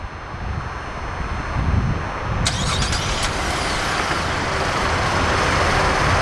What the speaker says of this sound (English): let's go ahead and fire up the engine, see how she runs.